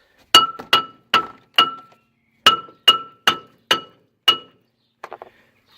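A hammer taps a brake part on a Ford Streetka, with nine sharp, ringing metallic strikes in an uneven rhythm, close and loud, followed by a few fainter light knocks.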